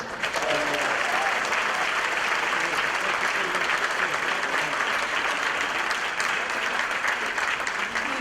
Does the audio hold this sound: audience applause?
yes